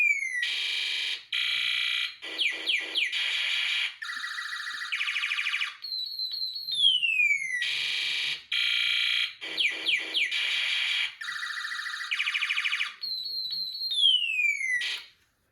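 Snap Circuits Extreme SC-750 alarm IC sound effects play through a small speaker: a loud, close loop of electronic sirens, warbling bursts and quick descending sweeps, cycling through the same sequence twice with no voices.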